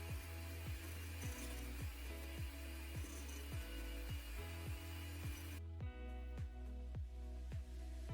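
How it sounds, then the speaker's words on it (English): An electric hand mixer beats plum cake batter with eggs and baking powder in a bowl. The motor holds a steady whine while the beaters knock in a regular rhythm, and nobody talks. "I'll just go in back with my hand mixer and mix everything to combine nicely"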